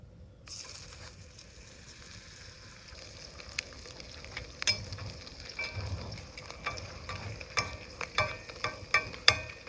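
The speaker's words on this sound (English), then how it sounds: "Y'all ready to fry us a piece of bologna?" Bologna fries in a cast iron pan outdoors, a soft steady sizzle that grows busier with sharp pops and crackles toward the end.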